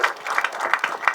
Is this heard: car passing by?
no